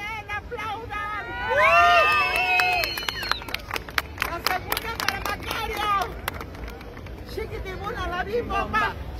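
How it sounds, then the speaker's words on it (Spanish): A crowd gathered for the arrival of Ignacio López Tarso's remains at Bellas Artes whistles and claps. Shrill rising whistles come early, then scattered and rhythmic clapping mixes with loud chanting voices. "Chiflen, aplaudan."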